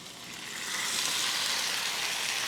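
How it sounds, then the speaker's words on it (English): A steak sizzles loudly in a hot pan, a steady broad hiss that swells over the first second and then holds evenly to the end, close by with no voices. "we're gonna go ahead and add our steak"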